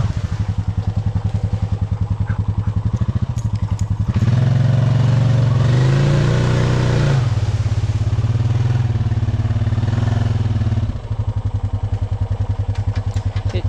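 A Honda 420 four-wheeler ATV on light tires churns along a muddy creekside trail. Its engine chugs steadily close by, then swells into a louder, deeper roar under throttle for several seconds before settling back to a rhythmic putter.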